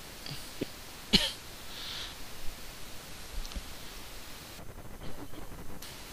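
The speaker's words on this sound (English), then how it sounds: "Sorry, I really had a cough." A single sharp cough bursts out near the start, loud and brief against a quiet, hissy background with faint rustling.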